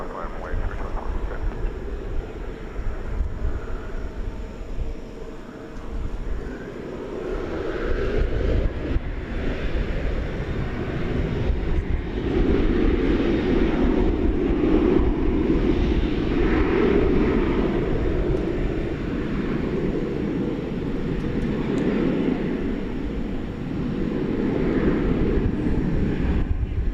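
Airliner taking off from a runway at DFW Airport, a broad distant engine roar that swells after the first few seconds and holds steady, with radio chatter and some wind noise.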